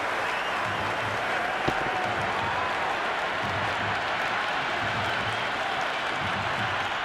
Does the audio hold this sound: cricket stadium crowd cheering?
yes